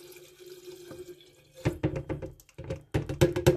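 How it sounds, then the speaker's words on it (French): Half a litre of alcohol poured from a bottle over organic garlic cloves in a glass jar: faint handling first, then glugging liquid splashes in uneven bursts, close, no talk. "On vient y verser notre demi-litre d'alcool."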